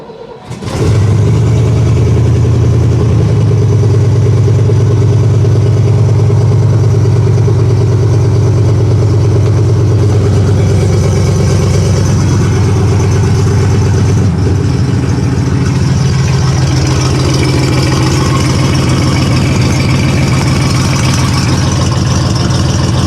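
Engine of an old car catching after a little choke, starting with a sharp crank then settling into a loud, steady running idle with slight revving swells, close and alone.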